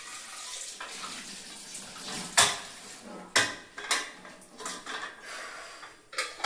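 Kitchen pots, pans and dishes clatter and clank irregularly against running tap water, with several loud knocks standing out over the wash and no talking.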